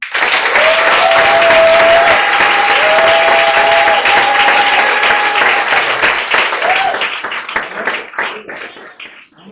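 A church congregation at a Sunday service applauds loudly and continuously, a dense wash of many hands clapping close by, with a sustained sung or shouted tone running over it before the clapping gradually thins out toward the end.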